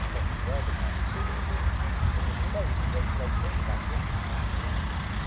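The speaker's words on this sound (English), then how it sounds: "another ride pulling on" A truck hauls a fairground ride onto a crowded fair site, a low, steady engine rumble close by, with faint squeaks and background clatter and people talking.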